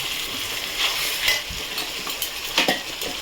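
Ginger paste fries in a pan with marinated mutton, giving a steady sizzle broken by a few scraping stirs and utensil clinks, close by and moderately loud.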